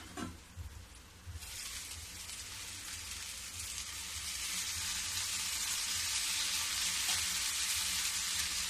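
Pieces of bottle gourd hit hot oil and sizzle steadily, a close, continuous frying hiss that starts softer and swells louder after a second or so, holding strong to the end.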